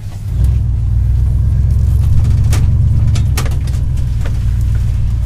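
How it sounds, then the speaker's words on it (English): A big block V8 engine revved to about 5000 rpm gives a loud, close, steady low rumble that is held evenly for several seconds, with no speech. "It's always good to rev your big block to 5 grand."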